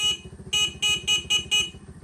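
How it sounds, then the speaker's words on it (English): An old bike's original 6-volt electric horn honks in six short, nasal blasts, close and loud. The first is separated by a gap, then five come in quick succession over a low engine idle. "this is the original 6-volt horn that was on the bike"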